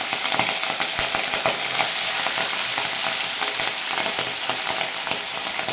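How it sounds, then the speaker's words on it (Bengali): Hilsa fish frying in hot oil for a Bengali mustard hilsa dish, a loud, dense, continuous sizzle with crackling pops and a few stirring clinks close by. "এবার আমি ইলিশ মাছগুলো এক একটা করে ছেড়ে দেবো"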